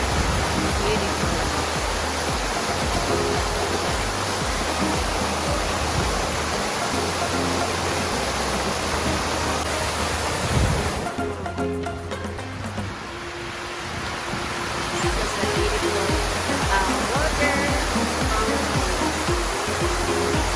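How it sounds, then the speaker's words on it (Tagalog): A water fountain in Queen Elizabeth Park splashes with a constant, dense rushing and hissing wash, steady and close throughout, with a brief dip in the middle. "See the fountain. I think it's so beautiful."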